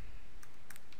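A few light keystrokes on a computer keyboard while entering HTML, a short scatter of soft, close clicks over a faint hum.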